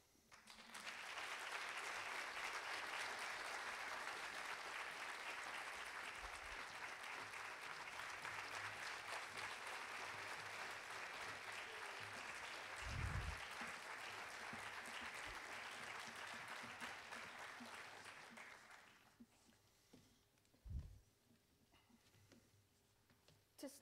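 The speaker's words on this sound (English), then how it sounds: "please join me in a big round of applause to welcome our guest speakers for this evening" An evening debate audience gives sustained applause to welcome guest speakers, dense even clapping that swells, holds for nearly twenty seconds and fades out, followed by a few thuds and faint room noise.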